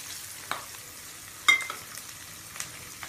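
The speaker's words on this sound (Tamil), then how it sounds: "இதெல்லாம் போட்டு நல்லா வெங்காயம் ப்ரௌன் கலர் ஆகிற வரைக்கும் நல்லா வதக்கிக்கணும்." Onions sizzle and crackle softly in hot oil with curry leaves and dried red chillies, with a few sharper scrapes of a spatula stirring the pan at intervals.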